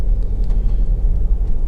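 A Honda CR-V 1.6 i-DTEC SR five-door diesel on a road test gives a loud, steady low engine and road rumble, close and continuous with no voices.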